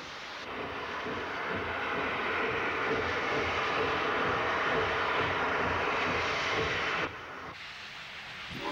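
An 0-8-0 steam switcher locomotive working back and forth in a rail yard gives a steady, loud broadband rumble and hiss that holds for about seven seconds, then drops away briefly before rising again.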